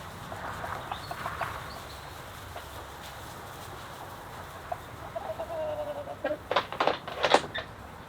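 Hens cluck softly in the background over steady ambient noise, with a brief burst of louder clucking near the end.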